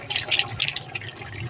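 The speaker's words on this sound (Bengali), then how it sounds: "এবারে সামান্য একটু জল দিয়ে দেবো" Water poured into a thick Bengali curry gravy of cashew and poppy seed paste, a brief splashing gush and trickle close by, lasting about a second and a half.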